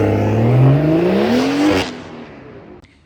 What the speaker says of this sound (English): 2016 BMW 340i, 500 horsepower, xDrive,